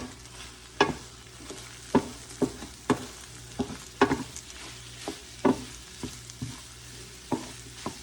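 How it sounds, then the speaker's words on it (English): Eggs scrambling in butter in a frying pan with Spam, a soft sizzle under repeated spatula scrapes and taps against the pan, close and steady. "little bit of butter and the eggs in the pan. Started to scramble."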